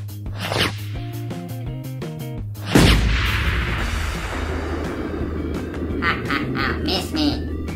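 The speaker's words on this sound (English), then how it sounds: "Okay, fire the cannons." A sharp bang like a small cannon shot rings out mid-clip, following a squeaky, honking toy-like tone, with more faint squeaks after.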